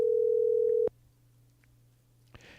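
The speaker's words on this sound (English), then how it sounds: "Call up the homie TG" A telephone tone hums steadily for under a second during an outgoing call, then cuts off, leaving a faint line hiss with a small click near the end.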